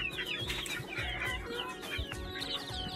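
Eight-day-old local chicks in a lit cardboard brooder box cheep in a busy, overlapping chorus of high chirps, close and fairly quiet, with no voices.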